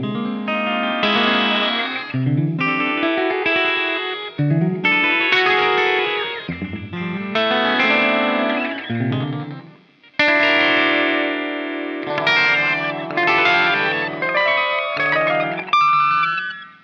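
A guitar runs through an effects pedal with its knobs set at random, giving a loud, warbling, heavily processed tone of smeared, pitch-shifting chords and sweeping swirls, played continuously with no voices.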